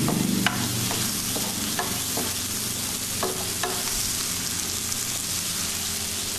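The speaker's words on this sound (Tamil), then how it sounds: "எல்லாம் நல்லா ஒன்றா சேர்ந்து அந்த மசாலா எல்லாம் பிடிச்சு வந்து எல்லாத்துலேயும் மிக்ஸ் ஆகணும்." Egg masala (egg thokku) sizzles and fries steadily in a pan while a utensil stirs and scrapes through it, with occasional close clinks over the continuous frying hiss.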